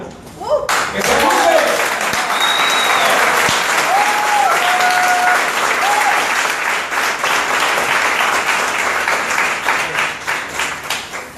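A crowd at a DXN company gathering in Sincelejo, Colombia breaks into loud, sustained applause with a few whistles, clapping densely for several seconds before thinning out at the end.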